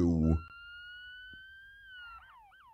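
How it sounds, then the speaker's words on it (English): A police siren in a video game wails steadily at a moderate distance, then breaks into quick warbling yelps near the end, heard right after a brief burst of speech. "I hear the sirens."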